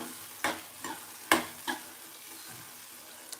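Boiled moong bean curry being stirred in a pan, heard as a few soft, separate scraping strokes with gaps between them over a faint background hiss.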